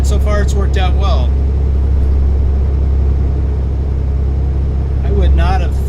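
Truck engine noise from the Euro Truck Simulator 2 driving game, played at full volume, holds as a constant deep rumble under a voice that talks at the start and again near the end.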